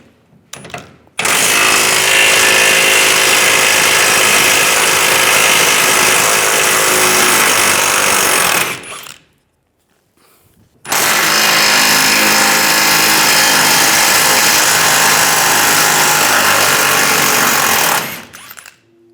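An impact power tool with a 21mm socket hammers on trailer hitch bolts under the rear bumper of a 2007-2013 Chevrolet Silverado 1500, in two loud sustained bursts of rapid rattling separated by a short pause.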